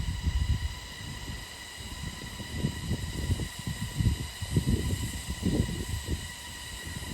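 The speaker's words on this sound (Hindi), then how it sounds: "जो आवाज़ आपको सुनाई दे रही है ये झिंगुर की आवाज़ है।" Steady, high-pitched crickets chirp continuously in several layers in the Arunachal Pradesh hills, with rumbling, irregular low noise underneath and no talking.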